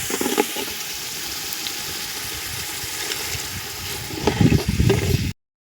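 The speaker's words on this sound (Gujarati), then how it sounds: "એટલે નાખવાનું છે પાણી." Water poured into a pan of cooking chilli curry makes a continuous rushing, bubbling splash up close, swelling louder near the end before cutting off abruptly.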